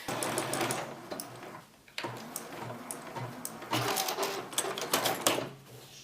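A sewing machine runs in quick mechanical bursts, stitching an appliqué at a rapid rhythm with a brief pause midway, close and moderately loud.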